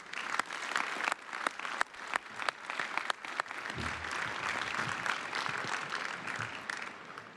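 Audience applause for award recipients at the Ohio State University spring 2024 commencement ceremony, a dense, sustained wash of clapping from a large crowd that swells and holds steady throughout.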